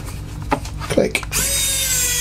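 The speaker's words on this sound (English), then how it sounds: "using the electric screwdriver" An electric screwdriver spinning screws during a teardown of a Medion digital notepad, a few short taps and rubs followed by a steady close motor whine, with a voice speaking at the start.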